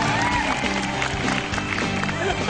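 Stand-up comedy audience clapping and cheering at a comic battle show, a dense, sustained wash of applause filling the room close and loud, with voices mixed into it.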